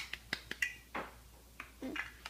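Several sharp, close hand claps in an uneven burst, cheering a child during a guessing game at home, with brief voice-like sounds between them.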